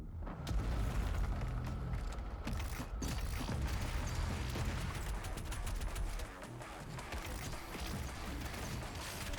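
Dense, continuous rumbling blasts and rapid firing from heavy cannon sticky bombs in the DOOM Eternal video game, loud and layered, with repeated sharp impacts over a constant roar.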